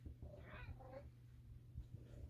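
A cat gives a couple of short, faint meows indoors against a low background hum, with brief soft sounds following.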